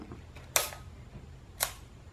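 A Canon Demi EE17 half-frame camera fires its shutter twice, each a crisp close mechanical click about a second apart, against a quiet room background.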